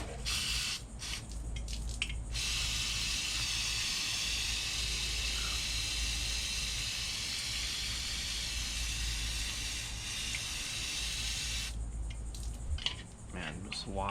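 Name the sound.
brake cleaner spray washing a carburetor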